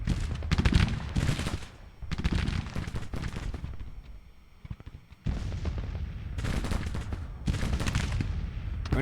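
Musket volleys crackle from light skirmishing in Grand Tactician: The Civil War, Civil War battle at Manassas Junction, bursts of rapid overlapping shots in dense waves, a brief lull mid-way, then firing resumes steadily.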